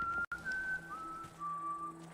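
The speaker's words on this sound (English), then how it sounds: "You'll do some whistling and then you'll move on to the next area." Melodic whistling in the video game Dying Light The Beast, a clear sustained tone that glides between pitches over about two seconds with one brief break, heard alone without talk.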